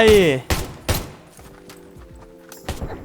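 Gunfire in the survival shooter game Undawn, a few loud sharp bursts with gaps between them, mixed with game sounds and a voice near the start.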